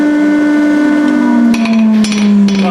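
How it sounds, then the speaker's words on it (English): Blacksmith's forge being started back up for making an arrow head, a loud steady roaring hiss with a strong whistling tone and a few sharp metallic knocks. "I'm going to start the forge back up again"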